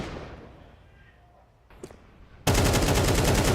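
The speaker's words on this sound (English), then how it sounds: "Nearly caught him on the wallbang there." In the video game Counter-Strike, a shot goes through a wall: a quiet stretch with a faint click, then a sudden loud burst of rapid automatic fire that keeps going to the end.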